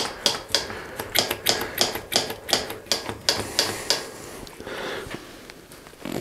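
Part on a thrift shop Mongoose bicycle being tightened with a tool, a run of sharp, close metallic clicks in an even rhythm that stops partway through, followed by quieter handling.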